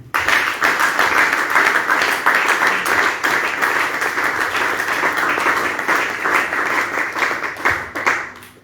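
A church congregation breaks into sustained, loud applause and cheering for Jesus, steady clapping lasting several seconds with no talk over it.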